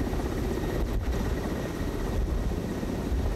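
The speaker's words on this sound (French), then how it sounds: "des rares hélicoptères capables de voler en haute altitude" A high-altitude helicopter flying over the Andes gives a steady, continuous rotor and engine drone, heard close and unbroken throughout.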